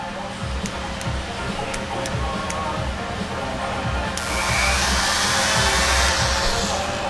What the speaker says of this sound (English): now that we have the Dremel ready, we're going to keep it at a fairly low speed